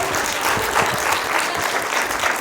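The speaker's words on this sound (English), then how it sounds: "Can I round of applause for Mr. Dave Stroud, everyone?" A burst of audience applause, loud and dense clapping from a crowd for a couple of seconds.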